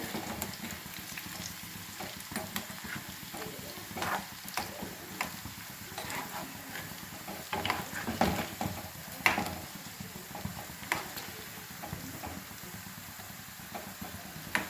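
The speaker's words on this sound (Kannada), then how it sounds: "ಸರಿಯಾಗಿ ಹೊಂಬಣ್ಣ ಬರುವವರೆಗೂ ಅದನ್ನು ಎಣ್ಣೆಯಲ್ಲಿ ಫ್ರೈ ಮಾಡ್ತೇನೆ." Onion pakoda deep-frying in oil, a soft continuous bubbling and crackle heard close up, with occasional light clicks and taps throughout.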